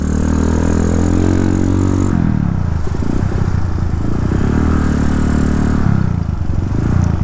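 A vehicle at full throttle on a Bali road at night, its engine roaring loud and steady with a dense, rattling rumble and a brief dip as the revs shift, then pulling hard again.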